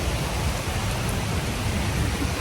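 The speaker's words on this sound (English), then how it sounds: "I love playing in the rain. There's nothing like playing in the rain." Steady rain falling outdoors near an arroyo, a dense even hiss of drops that stays loud and constant with no voices.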